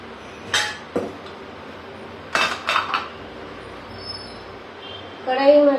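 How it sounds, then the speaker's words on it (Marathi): A metal kadhai is set down on a kitchen stove with a few sharp clanks and clatters, a pause, then a cluster of knocks, followed by a brief tonal sound at the end. "इथे मी कढाई ठेवलेली आहे."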